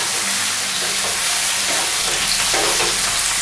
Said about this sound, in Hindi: तो अब इसके अंदर डाल देंगे अपन आलू।